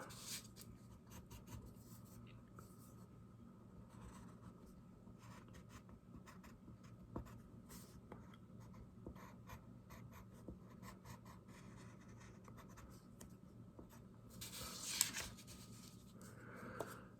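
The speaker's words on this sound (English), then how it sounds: "I'm going to use a black colored pencil to make the arms" Black colored pencil drawing on paper, a quiet, steady scratching of strokes that runs throughout with small ticks and a slightly louder flurry near the end.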